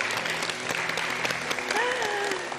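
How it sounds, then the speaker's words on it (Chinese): Warm applause from a television studio audience honouring Peking opera master Shang Changrong, a dense, steady crackle of many hands clapping close by for a couple of seconds, with faint voices underneath. "我们掌声送给尚老"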